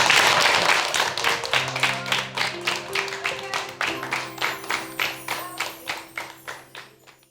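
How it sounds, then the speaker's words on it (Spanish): Audience applause at a bicentenary commemoration of the 1824 Battle of Mocopulli in Chiloé, heard as steady, rhythmic, near-unison claps over a sustained musical tone, gradually thinning and fading. "¡Aplausos!"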